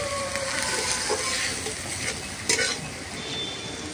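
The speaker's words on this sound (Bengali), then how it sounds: "এখানে কিন্তু আমার পেঁয়াজ আদা রসুন সব ভাজা হচ্ছে" Onion, ginger and garlic fry in a pan for a dhaba-style tadka, a close steady sizzle with occasional stirring scrapes and a brief clatter.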